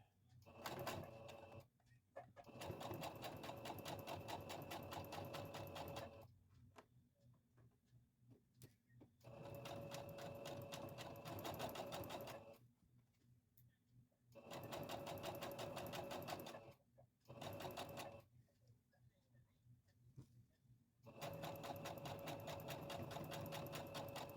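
A sewing machine back stitching fabric for a dog coat, running in loud rapid mechanical bursts separated by short pauses, close up with no talking during the stitching.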